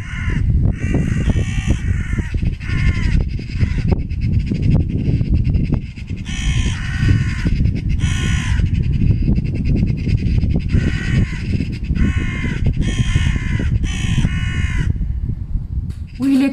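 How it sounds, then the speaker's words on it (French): Repeated harsh crow caws in clustered bursts across the whole stretch, loud and fairly close, over a constant low rumble of wind or background noise. "En train de me faire insulter par un corbeau."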